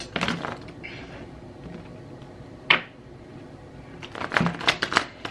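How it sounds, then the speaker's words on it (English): Bending tarot cards are shuffled by hand in bursts of riffling and slapping, with a sharp snap midway and a quicker flurry of card sounds at the end. "these cards are not shuffling very good anymore"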